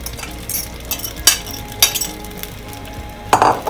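Noodles dropped into hot oil for a homemade noodle pizza, a soft sizzle under scattered clinks and scrapes of a utensil against the pan, with a louder burst of frying near the end.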